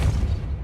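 Depulso spell cast in the video game Hogwarts Legacy, a short, deep booming burst that starts loud and fades over under a second, with no voices.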